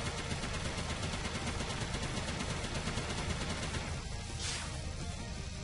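Enemy gunfire in the video game Mighty No. 9, a steady rapid stream of shots that continues throughout, loud and close, with a brief whooshing effect near the end and no voices.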